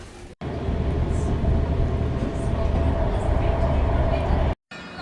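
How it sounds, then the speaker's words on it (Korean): Steady low rumble of a moving train from inside a carriage in China, continuous and close, with brief dropouts at the start and end. "여기 기차 타보도록 할게요"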